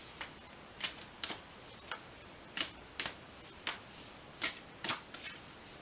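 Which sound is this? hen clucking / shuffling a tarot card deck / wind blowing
shuffling a tarot card deck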